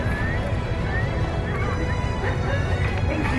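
A horse whinnies amid a busy outdoor crowd, with hoof clops and murmuring voices running steadily underneath.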